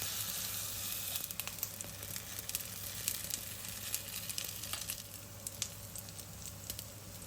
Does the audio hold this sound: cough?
no